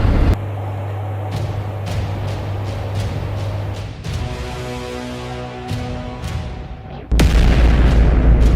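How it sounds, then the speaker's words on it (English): A supernova explosion sound effect: a series of deep booming rumbles and bursts building over several seconds, ending in a sudden loud blast that sustains at full strength. "it goes out with a bang, a massive explosion called a supernova"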